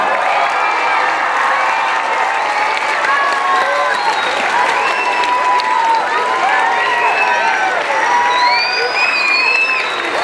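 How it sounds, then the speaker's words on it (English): A school awards ceremony crowd of children and adults claps and cheers loudly and continuously, applause dense and sustained with scattered whoops and shouts throughout. "give a round of applause and a big cheer for all the adults who got you"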